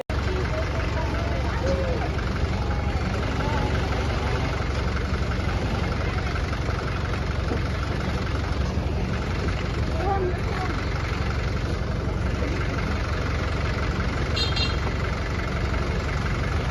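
A motorbike engine idles and rumbles steadily close by, with people talking over it throughout.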